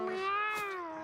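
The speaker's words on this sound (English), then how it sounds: "When the thing says meow meow, they sound exactly like me." A cat meows once in the video game Mewgenics, a single clear, drawn-out tonal call up close that slowly falls in pitch.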